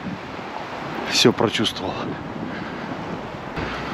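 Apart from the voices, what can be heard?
wind on a snowy February day in Siberia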